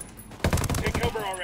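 A rapid burst of rifle gunfire in the video game Ghost Recon Wildlands, several quick shots in a tight rhythm, close and fairly loud, with a ringing tail.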